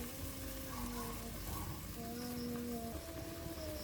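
Eggplant and egg sizzling steadily in a hot pan, a continuous soft frying hiss with faint crackles close by, and no talking.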